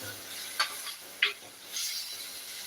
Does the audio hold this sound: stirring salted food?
yes